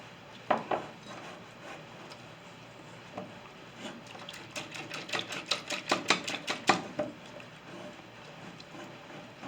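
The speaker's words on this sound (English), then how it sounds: "I'm giving the mixture a little mix with a whisk." A whisk clatters against a mixing bowl while stirring a milk mixture, with faint scattered taps at first that build into a quick run of rhythmic clinks, close but fairly quiet.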